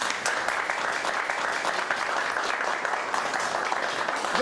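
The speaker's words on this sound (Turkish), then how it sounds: "Şimdi alkışlarımızla gelin ve damadı uğurluyoruz." Steady, dense applause from a wedding crowd sending off the bride and groom, even and continuous clapping at moderate loudness with no pauses.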